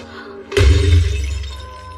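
An ancient egg breaks in a sudden loud shattering crack with a heavy low thud, followed by a decaying rumble, in a dramatic film scene.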